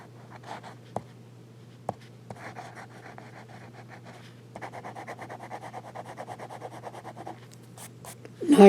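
A fountain pen with a smooth, wet nib is heard writing on paper. After a few soft taps, faint close scratchy strokes form short bursts of rapid scribbling over a quiet room hum, and a louder handling noise comes at the end.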